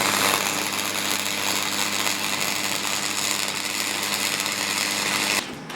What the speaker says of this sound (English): we want to weld in and around the inside here